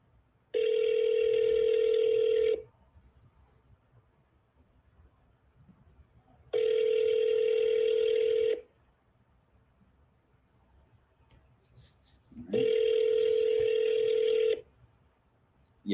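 Outgoing phone calls ring out in three long, steady tone bursts of about two seconds each with quiet pauses between, a brief clicky dialing blip near the third, heard alone without speech.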